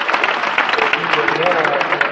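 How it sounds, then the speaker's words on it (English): Audience at a hypnotist show clapping in a dense, continuous burst of applause, close and loud, with a voice talking over it. "Give them a round of applause as they go."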